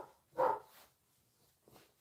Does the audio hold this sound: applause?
no